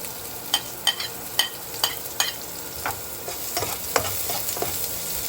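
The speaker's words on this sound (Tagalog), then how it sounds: "pwede na natin ihulog yung ating sibuyas. yung ating bawang." Onion and garlic fry in a pan for spicy chicken neck adobo, with a steady soft sizzle and repeated sharp scrapes of a utensil stirring against the pan, no voices.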